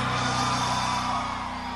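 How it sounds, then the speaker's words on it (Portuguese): Live concert crowd at a 2019 show in Barra do Rocha, Brazil, shouting and whooping on request, a loud dense roar of many voices holding steady for under two seconds. "Quem gostou, dá um gritinho aí pra gente."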